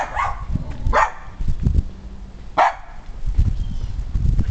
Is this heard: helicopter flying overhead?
no